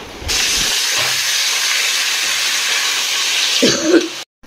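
Taro leaves hitting a pan of fried onion and garlic set off a loud, sustained sizzling hiss that runs for several seconds, then cuts off abruptly.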